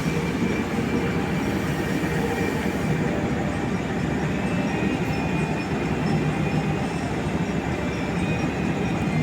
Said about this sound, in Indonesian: kereta api Turangga tiba di stasiun Kroya.